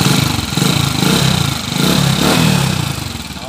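A motorcycle engine idles close by with a loud, rough, chugging rumble that swells and dips slightly, with a distinctive timing gear sound.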